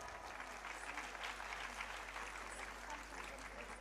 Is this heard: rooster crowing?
no